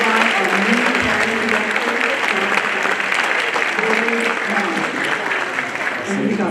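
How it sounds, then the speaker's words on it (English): A university convocation audience applauds the choir with sustained, even clapping from many hands, while a voice talks over the ovation. "Let's give a rousing round of applause for the choir"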